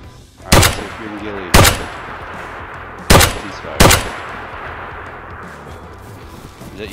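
Four sharp, loud gunshots ring out in the survival video game DayZ, arriving in two pairs with short gaps between them over a steady background of ambient game noise.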